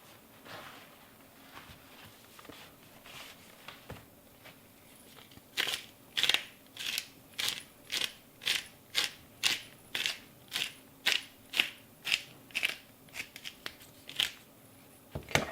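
Peppercorns crushed in a hand grinder over steak with salt, a steady run of about eighteen crisp, evenly spaced cracking crunches close up, preceded by a few fainter scattered clicks.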